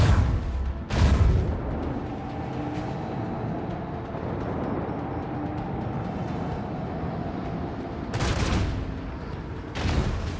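Rapid gunfire as an enemy shoots down incoming torpedoes in the space battle of Warhammer 40K Rogue Trader, a steady dense rattle with louder bursts near the start and end, no talk.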